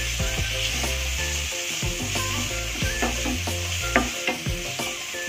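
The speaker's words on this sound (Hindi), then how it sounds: "सारे सब्जियों को अच्छे से फ्राई कर लेंगे।" Chopped vegetables and tomato frying with spices in a pan for masala oats, a close continuous sizzle broken by repeated spoon scrapes and clicks against the pan, with background tonal music.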